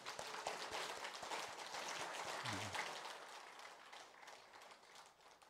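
Applause for a choir at a Korean religious service: soft, fairly distant clapping from the congregation, steady for several seconds before gradually thinning out.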